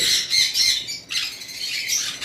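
Breeding pairs of cockatiels, lovebirds and budgerigars squawk and chatter in shrill, overlapping bursts close by, almost without pause.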